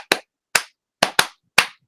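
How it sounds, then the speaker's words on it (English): Five sharp, close hand claps spaced unevenly, with two coming in quick succession, each crisp and separated by silence. "taking your hands, like, just clap them together for a minute"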